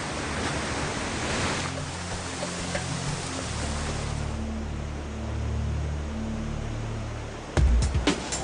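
Water from a jungle waterfall near the ancient Khmer ruins of Angkor, Cambodia, pours down hard in a steady, dense roar, with a brief louder burst near the end.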